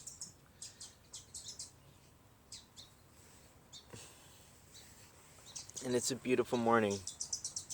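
Birds chirp outdoors on a morning among trees, butterflies and bugs, with short bright tweets scattered throughout and a louder rising call near the end, heard alongside a person talking.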